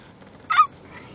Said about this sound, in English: Look at all the birds!